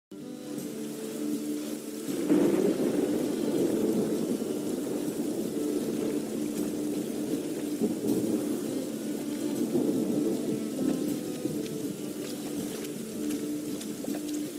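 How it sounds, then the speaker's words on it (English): Steady rain hisses with a low rumbling of thunder underneath in The Witcher 3: Wild Hunt, continuous and moderately loud throughout, without any voices. "And it's raining again."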